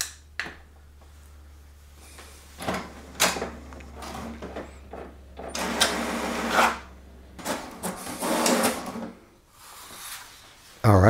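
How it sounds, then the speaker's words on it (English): An HP DeskJet printer prints a page: bursts of mechanical whirring and clicking come in separate bouts between quieter pauses, with a low steady hum beneath and talk in places. "the printer will print the password."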